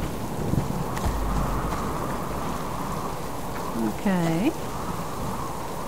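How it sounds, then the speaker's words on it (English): A heavy storm in the survival game Subsistence: steady loud rain hiss with low thunder rumbling beneath, while a voice briefly speaks once over the downpour. "Wow, it is really very stormy. It's so loud."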